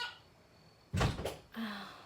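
A household door being closed at night, one solid thud with a brief rattle, followed by a short trailing scrape or latch sound, fairly near in a quiet room.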